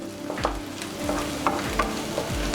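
Ginger garlic paste frying in a pan for a chicken fry, a close steady sizzle punctuated by several regular scraping stirs of the spatula, without speech.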